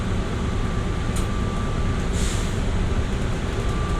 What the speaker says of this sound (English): Welcome aboard the plane train. Please hold on. This train is departing.